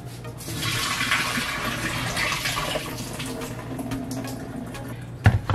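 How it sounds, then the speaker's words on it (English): Soaking water pours and gurgles steadily as it drains from breadfruit, a continuous rushing splash ending with a couple of clunks. "so now I'm gonna drain the water"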